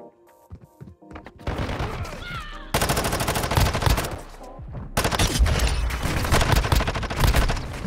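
Light machine gun fire in the mobile shooter Warzone Mobile, with loud sustained bursts of rapid automatic shots that cut in abruptly, punctuated by booms and overlapping gunfire with no talk.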